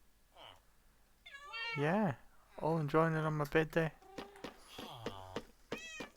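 Pet cats meow in a video game world, several drawn-out meows in quick succession, clear and close, mixed with someone talking.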